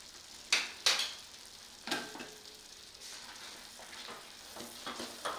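Fried cashews and raisins are stirred into rava kesari in a pan, giving a few soft scraping and clinking strokes over a faint steady sizzle, close by with no talking.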